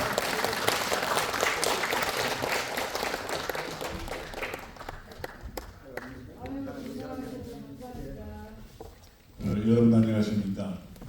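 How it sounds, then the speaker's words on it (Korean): Audience applauding in an art hall as a speaker is welcomed to the stage at a national chapter launch ceremony. Steady, dense clapping fills the first half and fades, then someone speaks over the quieting room near the end. "박수로 환영해 주시기 바랍니다."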